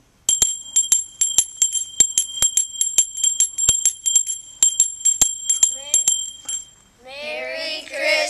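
A handbell rung for a Christmas charity drive clangs in a steady run of bright, close strikes for several seconds, then stops as a voice starts talking.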